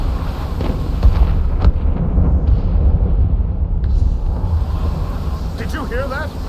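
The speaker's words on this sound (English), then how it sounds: "Did you hear that? Cannon fire. Deep within the forest." Cannon fire in the video game Assassin's Creed Rogue booms from deep in a forest as muffled, distant thuds over a continuous low rumble, and a voice comes in near the end.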